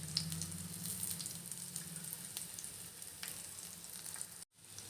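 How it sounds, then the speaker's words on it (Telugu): Bitter gourd pieces frying slowly in oil over a low flame make a steady, soft sizzle with a brief clink of stirring partway through and a sudden short gap near the end; no one speaks. "ఫ్లేమ్ సిమ్లో పెట్టుకొని స్లోగా ఫ్రై అవ్వనివ్వాలి"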